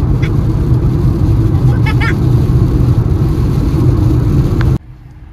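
Steady low rumble of cars idling in a traffic jam in Ottawa, Canada, on a rainy day, a dense continuous drone from start to finish before cutting off abruptly near the end.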